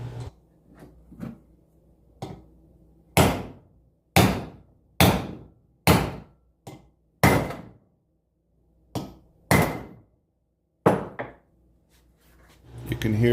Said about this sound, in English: put this on top, start hammering it in.